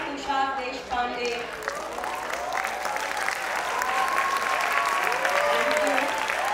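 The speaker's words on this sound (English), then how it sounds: "A huge round of applause for our own Tushar Deshpande." Applause fills a school hall honouring a cricketer, steady and sustained, with a voice heard over the opening moments.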